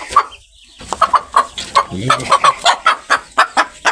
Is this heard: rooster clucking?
yes